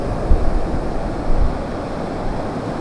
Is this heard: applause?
no